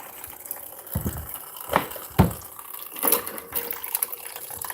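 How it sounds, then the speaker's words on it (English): A tap left running on a slow drip splashes water from a New Hampshire well into a basin, with irregular drips and trickles, a few louder splashes standing out from a low watery background, and no talking. "I just like left the water running like on a drip for a little bit."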